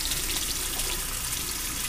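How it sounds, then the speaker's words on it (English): Tap water runs steadily into a bathroom sink, a constant close splashing hiss with no voices. "Okay, everybody, here we are at the bathroom sink."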